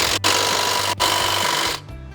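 Steady grinding whir of a tool tightening a transmission mount nut on a vehicle, close and loud, briefly cut off twice before stopping near the end.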